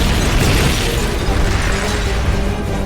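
A missile explosion in the video game Metal Gear Solid Peace Walker, a loud, continuous rumbling blast with crackling bursts that fills the whole moment without fading.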